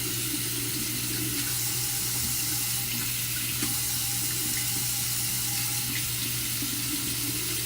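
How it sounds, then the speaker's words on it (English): Tap running warm water into a sink, a steady close splashing rush holding constant and unbroken throughout, with no talk. "So I'm going to get warm water right now."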